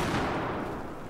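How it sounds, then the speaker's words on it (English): Grenade explosion in the Battlefield 4 video game, a dense, sustained burst of broadband roar and rumble filling the moment with no talk over it. "Oh, that's a nade."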